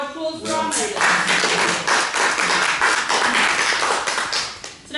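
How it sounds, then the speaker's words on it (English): Audience applause for Maori maidens at a cultural presentation in the Auckland War Memorial Museum, a dense, steady crowd clapping that fills the room, building after a brief spoken lead-in and fading at the end. "How about a round of applause for our maidens?"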